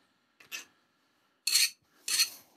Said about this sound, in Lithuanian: Čia va daug mištesnis metalas, tai dildė puikiausiai paima.